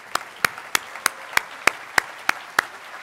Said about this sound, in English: if you would recognize them with just a short applause